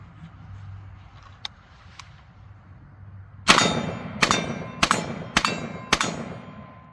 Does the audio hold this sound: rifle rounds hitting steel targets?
yes